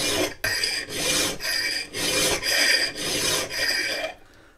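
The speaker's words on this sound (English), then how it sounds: "Okay, let's get filing." A single cut file is drawn along an axe edge in repeated long rasping strokes, about six steady passes with short gaps between them, close and clear with no talking.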